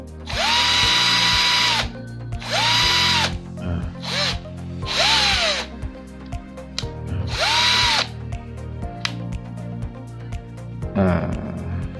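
A Bosch GSB 120 LI 12-volt cordless drill whirs in five loud, close bursts of about a second each, revving up and winding down between them, followed by softer handling clicks and a short final spin.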